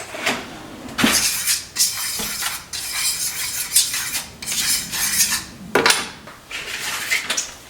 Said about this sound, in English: We're just going to stir this up.